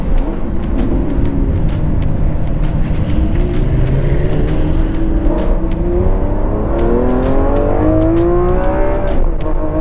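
A Lamborghini Aventador Ultimae being driven hard on a race track, its engine loud and close, with pitch climbing and settling through gear changes and a downshift, steady throughout with no voices.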